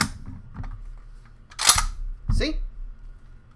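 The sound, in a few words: M1 Carbine 30-round magazine tested and pulled out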